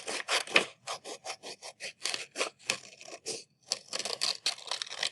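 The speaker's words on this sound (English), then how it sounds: "You want to be mindful about how you are cutting these out, because we trace the same circle for both" Scissors snip through paper while a traced circle is cut out for a winter landscape craft, a close, quiet run of short, crisp cuts in quick rhythmic bursts with brief pauses, no speech.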